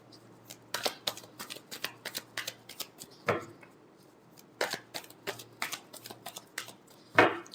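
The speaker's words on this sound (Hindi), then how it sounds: "Last shuffle." Tarot cards are shuffled close up in rapid riffles and slaps, a dense run of crisp card flicks ending in a louder final riffle.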